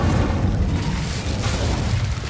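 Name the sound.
Incendio fire spell blast, from Hogwarts Legacy video game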